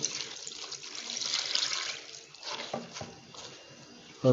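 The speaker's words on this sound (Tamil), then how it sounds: "இப்போ தேவையான அளவுக்கு நம்ம தண்ணி ஊற்றிக்கிறோம்" Water runs steadily into a cooking pot of spinach curry, splashing and gurgling as it fills, with a sharper knock near the end.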